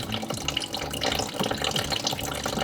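Fluid draining out of a Mercedes-Benz sensor housing, a steady close trickling and splashing of liquid that runs continuously without pause.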